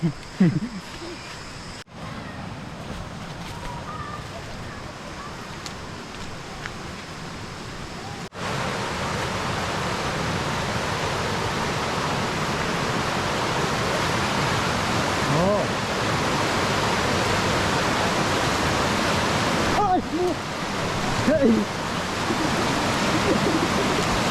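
Talea waterfall in Oudomxay, Laos, pours as a steady, broadband roar of falling water that stays dense and continuous throughout, with only brief dips in level.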